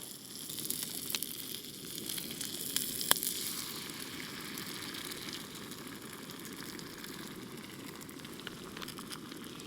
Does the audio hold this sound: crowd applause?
no